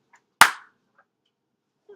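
A single sharp hand clap rings out once, crisp and close, followed by near silence with a faint sound at the end.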